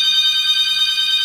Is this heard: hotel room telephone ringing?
yes